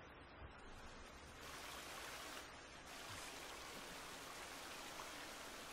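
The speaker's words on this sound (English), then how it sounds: "And there's a waterfall." Waterfall in the survival game The Forest, a steady broad rushing roar of falling water, faint and continuous, swelling slightly partway through, with no voices.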